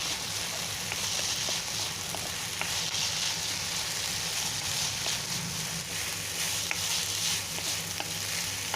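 Lumpia Shanghai spring roll filling with spring onion is stirred in a pan, a continuous close hiss of sizzling with light scraping and clicking from the utensil, steady and moderately loud, no talk.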